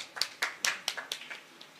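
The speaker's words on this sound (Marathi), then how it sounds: "टाळ्या वाजवा म्हणलं" An audience at a Marathi kirtan in Shewalwadi, Manchar near Pune claps in a short, loose burst of sharp hand claps that peters out within two seconds.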